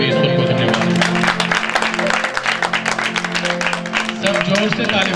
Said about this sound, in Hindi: सब जोर से ताली बजाकर सबको धन्यवाद दें